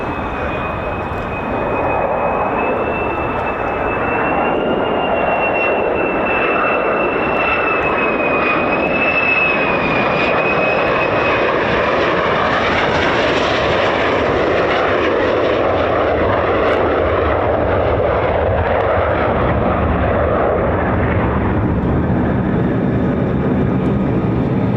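F-15 or F-35 fighter jet at RAF Lakenheath, a loud sustained engine roar with a high whine that swells and shifts in pitch as the aircraft passes, continuous throughout with no talk.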